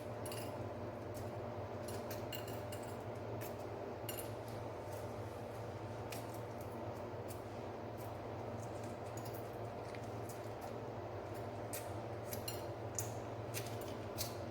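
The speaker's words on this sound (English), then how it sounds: "as you can see that the shells are coming off" Boiled eggs are peeled by hand, with faint irregular crackles and clicks of shell breaking away over a steady low background hum.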